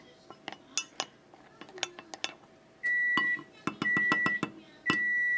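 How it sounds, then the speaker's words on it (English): A spoon mixes a baking mixture in a bowl, giving sharp, irregular clinks and taps against the bowl, close and fairly loud, joined partway through by a sustained tonal hum. "just take your spoon or whatever and you just mix it up a little bit so it's all integrated"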